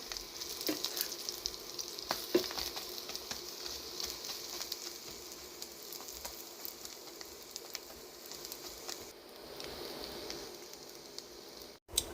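Perilla leaf pancakes frying in a pan, a faint steady sizzle with soft crackles and pops throughout, ending in a brief clatter.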